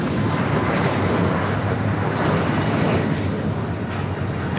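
An Alaska Horizon airliner passes at Los Angeles International Airport, a loud, steady jet roar that fills the whole span with broadband rumble and no break or fade.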